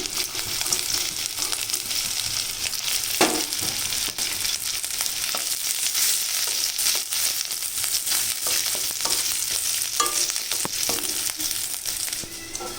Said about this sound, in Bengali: দিলাম গোটা জিরে তেজপাতা নারকেল কুচি